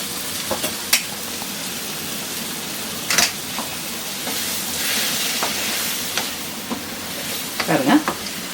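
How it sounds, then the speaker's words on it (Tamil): Chopped tomatoes sautéing in butter in a pan while making butter chicken, a steady soft sizzle with occasional stirring scrapes and clinks, close and moderately quiet, no talking. "தக்காளியும் போட்டு நல்லா வதக்கி விடணும்."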